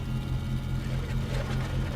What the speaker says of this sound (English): There goes the left engine.